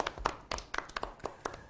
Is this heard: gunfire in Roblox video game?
no